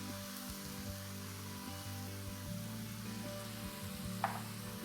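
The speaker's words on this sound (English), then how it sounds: "Once this is stir fried and ready" Stir-frying in a pan while seasoning with salt, freshly cracked black pepper and light soy sauce for fried rice, giving a steady low sizzle and hiss with soft scraping stirs throughout and one brief sharper clink near the end.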